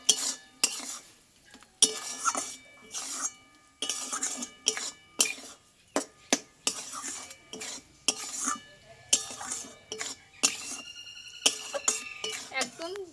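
Meat masala being stirred into dudh kochu (taro stem) curry in a pan, a metal spoon repeatedly scraping and clinking against the pan in uneven strokes over a light simmering sizzle.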